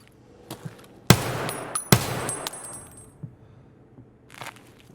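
Two loud, sharp gunshots ring out close together in Escape from Tarkov, each followed by a ringing echo, amid quieter footsteps and small clatters.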